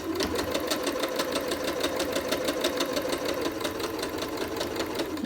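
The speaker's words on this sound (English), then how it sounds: "So here's where I started sewing the hem." A sewing machine running steadily while stitching the hem of a pinafore dress, a fast even mechanical rattle throughout, close and continuous.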